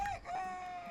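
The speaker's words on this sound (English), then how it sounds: "We have some loud roosters down here." Loud roosters crowing in The Sims 4, a bright drawn-out cock-a-doodle-doo call sounding close and clear, with no talk over it.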